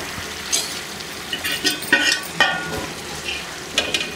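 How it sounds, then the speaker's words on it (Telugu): Chicken gravy for dum biryani stirred in a kadai, with a few scraping strokes and soft sizzling at close range, no voices. "గ్రేవీని ఈ కళాయిలోకి తీసేసుకుంటున్నానండి."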